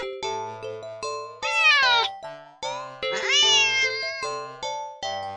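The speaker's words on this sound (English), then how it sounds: "the cat meows sharply at you" A cat meowing in the video game Do Not Take This Cat Home: a series of loud, rising, drawn-out meows repeated several times over a soft tonal musical backing, with no speech.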